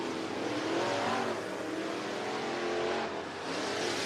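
Several dirt-track race cars at Cottage Grove Speedway rev and roar steadily as they roll out onto the oval during championship weekend, a loud, continuous engine drone with no talk over it.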